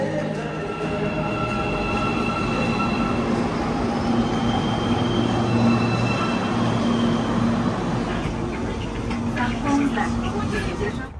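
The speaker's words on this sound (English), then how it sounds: "the city even has a subway, although it's just 11 stations in one line" A subway train on a short, new single-line metro runs steadily on its rails, a continuous loud rumble with a sustained tonal hum from the car, heard from close by throughout without pause.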